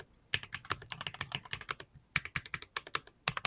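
Clicky keystrokes come from a custom numpad fitted with blue and white bear keycaps. The rapid, irregular taps sound close and crisp, with short pauses between bursts.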